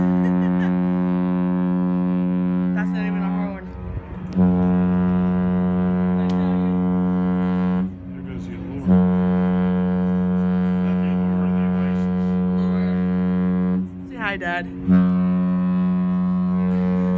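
Deep, sustained horn blasts of the Regal Princess cruise ship during a horn battle. Loud, droning tones repeat with brief breaks, and faint voices can be heard between the blasts.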